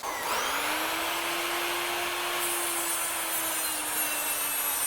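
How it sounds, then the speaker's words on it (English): A small power cut-off tool cutting PVC pipe whines steadily at high pitch, a continuous loud buzzing grind with a constant motor tone, close up and uninterrupted. "cut the point off the end of it and just smooth it up here with the little cut-off tool"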